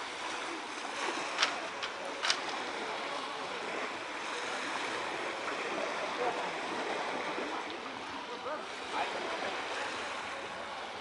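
Gentle sea lapping on a sandy beach at Lazarevskoye, a soft, continuous hiss of small waves heard at a moderate distance, with a few faint clicks and light wind noise.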